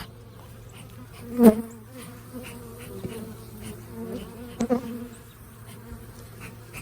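A steady insect buzz of many bees fills the clip, close and continuous, with a couple of louder thumps or bumps near the start and middle.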